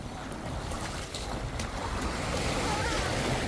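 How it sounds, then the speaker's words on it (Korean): Strong ocean waves crash and break steadily on the beach at Samcheok in summer, a loud continuous roar of surf with wind buffeting the microphone, swelling louder toward the end. "야 파도 세다 여기. 파도가 세."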